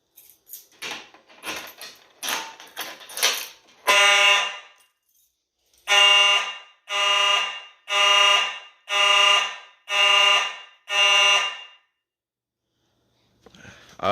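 A Simplex electro-mechanical fire alarm horn sounds during a system walk test, blaring in six loud, evenly spaced one-second blasts separated by brief silences, after a run of shorter clicks and knocks.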